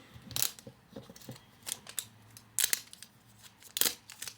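Package being opened with scissors at close range, several sharp snipping cuts and crinkly rustles in uneven bursts, quiet between them, no talk.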